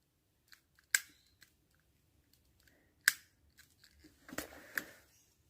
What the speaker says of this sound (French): J'appuie sur l'olive et qu'est-ce qui va se passer?